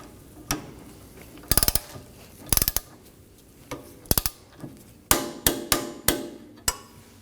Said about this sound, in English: Support the nut side with a wrench and torque it down.